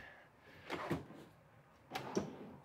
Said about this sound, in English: Two drawers that pull out there.